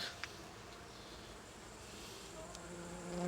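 Honey bees at autumn hives hum in a soft, steady buzz with a few faint passing flights, low and continuous throughout.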